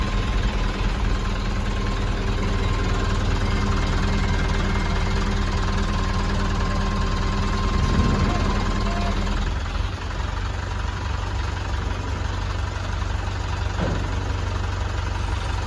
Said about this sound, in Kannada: ನೋಡಿ ಮತ್ತೆ ನಾನು ಗಾಡಿ ಸ್ಟಾರ್ಟ್ ಮಾಡಿಬಿಟ್ಟು ಫುಲ್ಲು ಮುಂದೆ ತೊಗೊಂಡೆ